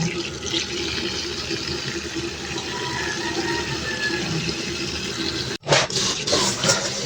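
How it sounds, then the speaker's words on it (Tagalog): Tap water runs steadily into a container to soak pilantik before cooking, a continuous close hiss and splash that cuts off abruptly near the end, followed by a few brief clatters. "bababad ko muna to sa tubig bago ko lutuin"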